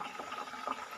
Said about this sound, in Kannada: ಈಗ ನೋಡಿ ಚೆನ್ನಾಗಿದು ಆಯಿಲಲ್ಲಿ ಕುದೀತಾ ಇದೆ